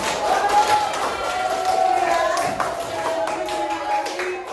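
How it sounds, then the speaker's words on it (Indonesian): Clapping from a class audience during an Indonesian science lesson, a scattered patter of hands heard over a background with tonal ringing and faint voices. "tepuk tangan dulu buat Kak Rumi"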